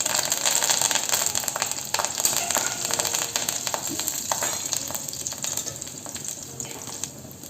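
Green chillies and curry leaves hit hot oil with mustard seeds in a pan for Kolhapuri misal, giving a loud, continuous close-up sizzle and crackle that holds steady throughout.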